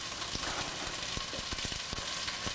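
Onion sizzles steadily in a hot pan, a dense close frying hiss with faint crackles and occasional utensil taps, no voices.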